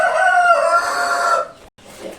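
A Colombian Light Brahma rooster crows once, loud and close, in a long harmonic call of about one and a half seconds that trails off into a brief quiet gap and a faint murmur.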